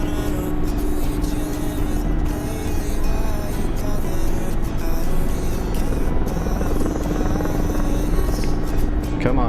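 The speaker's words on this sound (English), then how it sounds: "Alright, landing gear coming down." Remote-control aircraft in flight as its landing gear lowers, a steady droning motor and prop buzz with a strong constant hum, loud and continuous with no break.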